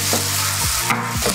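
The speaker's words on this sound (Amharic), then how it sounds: "ዘይታችን ስለጋለ ቺከናችንን አሁን መጨመር እንችላለን" Chicken frying in hot oil alongside sliced potatoes, tomatoes, chili peppers and onions, giving a steady close sizzle with a few utensil stirring scrapes and no talk.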